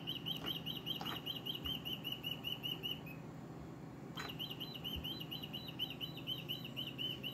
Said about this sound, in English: She's watching the bird on TV.